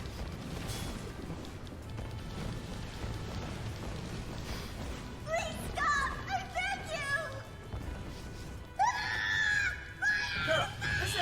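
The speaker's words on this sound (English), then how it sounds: "Don't you hear all that screaming?" Distant anguished screaming from people aboard elf fleets in the video game Drakengard 3, layered shrill cries rising and overlapping over a rumbling, rain-like background, growing louder toward the end.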